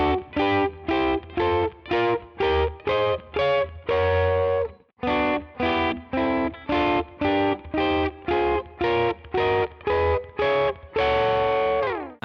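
Distorted electric guitar working through major and minor triad inversions, short chords struck one after another in a steady pulse with a brief gap partway through, a longer chord left ringing at the end.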